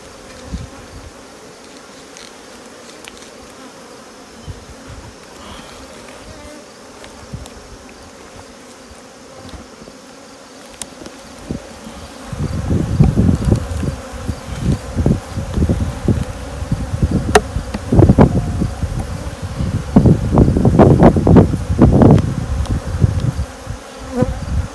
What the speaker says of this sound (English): there's lots of bees in here